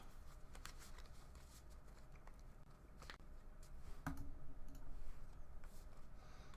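Digital card shuffling from Magic: The Gathering Online, a deck of Modern goats, comes as a flurry of quiet, rapid clicks and ticks in uneven bursts, faint against a low background.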